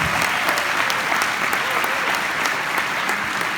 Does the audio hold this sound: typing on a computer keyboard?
no